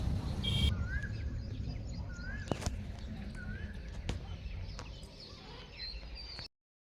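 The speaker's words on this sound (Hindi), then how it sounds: "कोयल की आवाज़ देखिए कितनी सुंदर आ रही है" Early-morning outdoor birdsong with a koel and other birds calling: repeated rising whistled calls and sharp chirps at moderate distance over a steady ambient hiss, with faint human sounds in the background.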